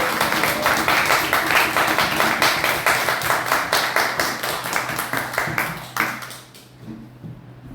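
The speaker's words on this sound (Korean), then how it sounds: "큰 박수로 환영하도록 하겠습니다." A church congregation at a Sunday worship service gives loud, dense applause to welcome a speaker. The clapping is steady for several seconds, then thins out and fades to near silence.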